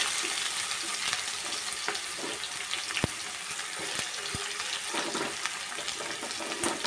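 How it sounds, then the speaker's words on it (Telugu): Chopped onion, curry leaves and green chillies fry in a pan for tomato rice. The sizzle is soft and steady with faint stirring and a couple of sharp clicks, and no one speaks. "వీటిని కొంచెం మగ్గేదాకా వేయించుకున్నాం."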